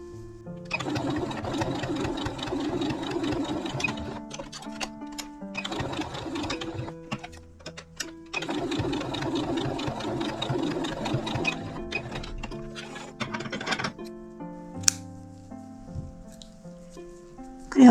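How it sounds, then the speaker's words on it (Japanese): A sewing machine stitches along fabric edges in fast, rattling bursts of several seconds each, separated by short pauses, close and fairly loud, ending with a few quieter clicks and handling sounds. "ここを3辺に端ミシンをかけておきます。"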